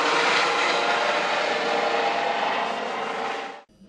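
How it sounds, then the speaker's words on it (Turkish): Ambulance helicopter running steadily and loud at close range, a broad continuous rotor and engine roar that holds for several seconds and then cuts off abruptly. "minik Hasret ambulans helikopterle Çanakkale Devlet Hastanesi'ne sevk edildi"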